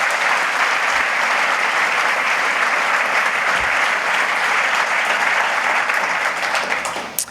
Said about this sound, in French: qu'on les applaudisse aussi chaleureusement